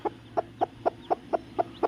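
A hen with her newly hatched chicks clucks on a farm, giving eight short, evenly spaced clucks close by with no voices.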